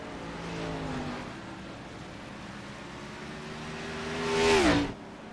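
A GenX Racing race car at Sonoma Raceway, its engine note rising and falling through the corners before a loud whooshing pass close by near the end, then fading quickly.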